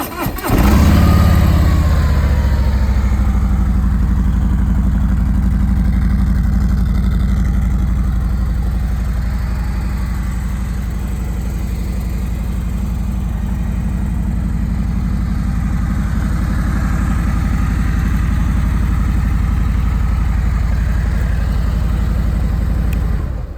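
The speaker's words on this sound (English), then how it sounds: "Let's go ahead and start this bike so you can hear it go" A 2019 Harley-Davidson Street Glide Special motorcycle engine idles steadily and loudly for the whole stretch, a deep low rumble after a brief start, with no talking over it.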